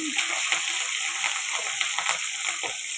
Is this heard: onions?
yes